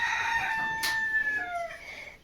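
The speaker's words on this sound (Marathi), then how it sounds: "इथं कोंबड्यांचा आवाज येतो" Roosters crowing in a village yard, several long harmonic cock-a-doodle-doo calls overlapping near and loud, with no talking.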